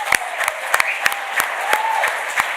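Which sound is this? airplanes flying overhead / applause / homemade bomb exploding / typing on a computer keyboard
applause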